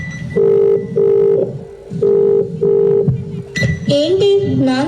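Telephone ringback or dialing tones repeating in a steady on-off rhythm, a few distinct beeps, followed by a shift into a higher warbling tone near the end; clear and fairly loud with no talk.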